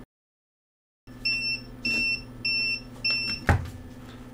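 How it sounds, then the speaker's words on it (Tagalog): A power inverter gives four short electronic double-tone beeps at a steady pace over a low hum during a LiFePO4 battery capacity test, followed by a brief clatter. "Nagbi-beep-beep na yung ating inverter"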